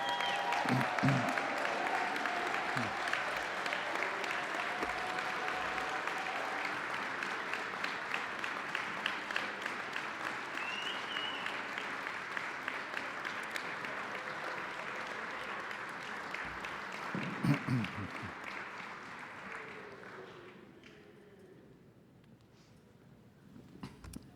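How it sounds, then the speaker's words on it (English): Commencement audience standing to applaud the graduates, a long, steady wash of clapping from a large crowd that carries on for about twenty seconds before tapering off near the end. "please stand and give the graduates another well-deserved round of applause"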